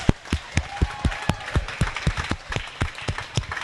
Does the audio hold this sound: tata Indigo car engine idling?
no